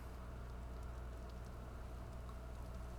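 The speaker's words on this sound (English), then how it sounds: "the rain is just loud." Rain falls steadily in the video game Vintage Story, a faint, even hiss that continues without pause or variation.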